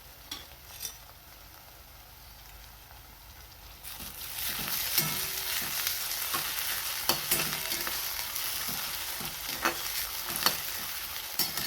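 Capsicum, tomato and coriander are stirred in a frying pan for an egg rice dish, with a soft sizzle swelling partway in and irregular scraping clinks of a spatula against the pan.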